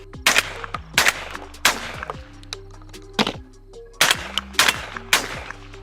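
A Browning Maxus 2 and a Winchester SX4 semi-automatic shotgun fire target loads side by side outdoors, giving a series of loud, sharp blasts in uneven bursts, each with a short echoing tail.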